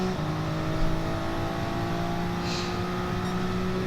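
Race cars, a Nissan and an Alfa Romeo, roar along in a racing video game, their engines holding a steady, loud, droning pitch throughout with no pauses.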